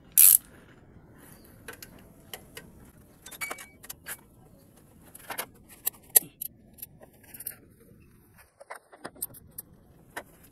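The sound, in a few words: socket wrench removing bolt under Toyota Corolla alternator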